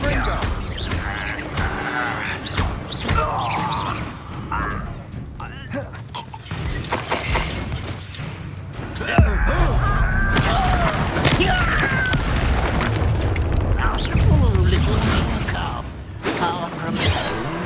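The Confringo fire spell in the Hogwarts Legacy video game bursts with explosive thumps and shattering crashes amid busy combat effects, and game character voices are heard between the impacts.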